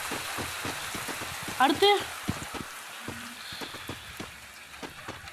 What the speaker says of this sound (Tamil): இது மழை பெய்யுற ஈவெண்ட்.